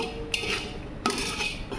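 Spices, ginger-garlic paste, onion and tomato sauce are stirred and sautéed in a pot before spiny-tailed lizard meat is added, giving two scraping clinks of a utensil against metal over a steady sizzle, with no talking.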